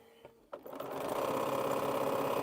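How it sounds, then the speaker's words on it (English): Home sewing machine stitching a quilt piece, starting after a brief quiet moment with a few clicks, then running in a loud, steady, fast mechanical whir close by. "I can go ahead and sew this and get it out the way"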